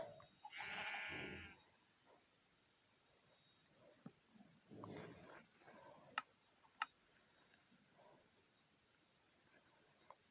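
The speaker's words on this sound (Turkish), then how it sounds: "Koyun." A Minecraft sheep bleats briefly, then again a few seconds later, with sharp clicks in between against an otherwise quiet background.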